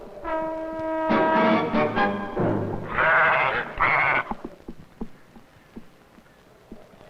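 Goats on a rocky ridge in the wild give several loud, wavering bleats that overlap at first and then fade, leaving scattered faint clicks and rustles.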